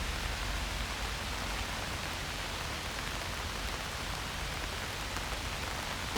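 Heavy rain pours down in a park, a steady, dense hiss of downpour that holds evenly and loudly throughout with no voices.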